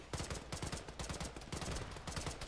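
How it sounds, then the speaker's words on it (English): Auto-cannon fire in a military video game rattles out as a dense, continuous stream of loud rapid shots, with the bursts overlapping and no pauses. "we're under auto-cannon fire"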